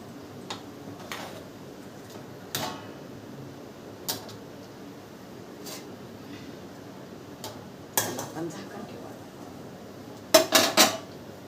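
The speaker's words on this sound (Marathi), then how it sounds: "मग आता तोपर्यंत भांडे घासते मी" Pots and dishes being scrubbed and rinsed by hand in a home kitchen, with scattered clinks and clatters of metal utensils, loudest in a cluster of knocks near the end, over a soft steady background.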